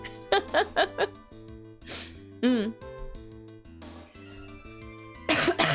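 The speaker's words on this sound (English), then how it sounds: "I'm coughing a bit still." A series of short, close coughs in a quick burst, followed later by a throat-clearing cough, over soft background music.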